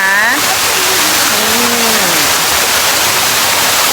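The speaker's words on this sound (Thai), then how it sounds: "น้ำตกของเขาคือสวยมากจริงๆ นะคะทุกคนแล้วก็เย็นมากด้วยนะ" Waterfall at a water park hotel in Pattaya, a loud, steady broadband rush of falling water, with a voice speaking over it at the start.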